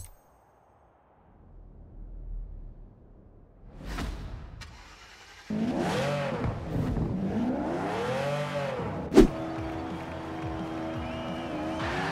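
A sports car engine in Forza Horizon 4 cranks and catches with a burst, then revs repeatedly, rising and falling in pitch, loud and close.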